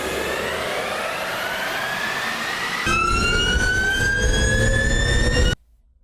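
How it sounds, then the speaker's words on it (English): A loud, high electric motor whine from a Ford Mustang Mach-E, climbing steadily in pitch, jumping to a harsher layered tone partway through, then cutting off abruptly into near silence. "it's the standard noise of electric cars amplified by 7 motors"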